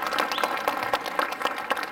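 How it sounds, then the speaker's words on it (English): An audience at an NRA annual meeting show applauds World War II veterans, with brief, dense clapping that stays moderately loud throughout the two seconds. "how about a round of applause?"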